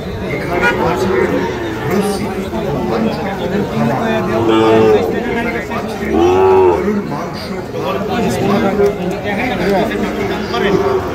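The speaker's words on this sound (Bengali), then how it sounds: "ভালো ভালো গরু আছে।" Cattle low and moo at intervals at the Ambari livestock market in light drizzle, where Sahiwal bulls are on sale, set amid a constant loud crowd of voices and nearby people talking.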